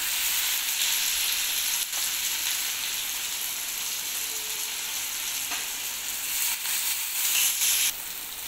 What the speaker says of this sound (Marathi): हे टमाटे एकदम असे बारीक असे शिजू द्यायचे आहेत तेलामध्ये